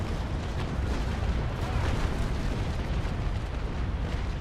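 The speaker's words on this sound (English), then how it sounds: "And fire, enabling two top deck guns," Naval cannon broadside in the sailing-ship battle game Naval Action, a loud, dense rolling roar of many guns firing together, sustained and booming throughout with no talk.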